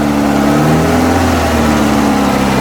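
A Toyota 3TC engine swapped into a 1978 Clarke 763 skidsteer runs loud and close, holding a steady, rough mid-pitched drone with the throttle held up.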